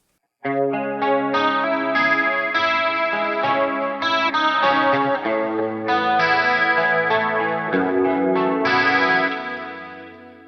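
An electric guitar plays sustained chords and notes through a shimmering, warbling chorus effect from a POD Go preset, steady and loud, then rings out at the end.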